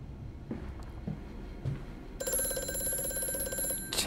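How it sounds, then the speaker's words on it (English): A telephone rings loudly and continuously in the horror game Amnesia: A Machine For Pigs, a bright, steady ringing that starts abruptly after a few quieter ambient thuds. "I'm freaking out from a phone!"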